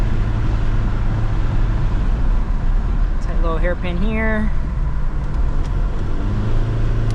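A 2002 Volkswagen Jetta GLS with 521,000 miles drones steadily through a mountain drive, a low engine and road hum inside the cabin while someone speaks briefly over it.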